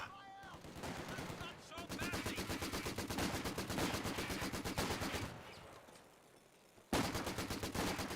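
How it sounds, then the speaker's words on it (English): Company of Heroes 2 mortar fire with a battle din: dense rapid repeated bangs and gunfire throughout, loud and continuous, dipping briefly near the end before resuming. "Mortar is firing away."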